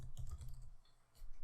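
Soft, quick clicks of keys on a computer keyboard, a short run of typing that is fairly faint and close, with a brief pause before it picks up again.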